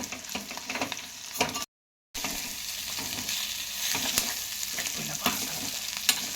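Ginger paste fries in a pan for yellow chicken, a dense, busy sizzle with frequent spoon stirs and scrapes, briefly cut to silence before the frying resumes just as loud.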